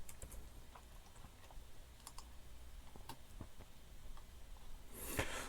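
Card details are typed on a computer keyboard: quiet, irregular key taps close by, with a slightly louder cluster of clicks at the end.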